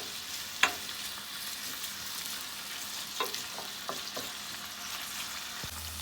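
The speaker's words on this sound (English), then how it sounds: "So we're gonna add our onions first and fry this up a little." Onions fry in a pan with a soft, steady sizzle and a few light clicks of stirring or utensil taps, fairly quiet and with no one speaking.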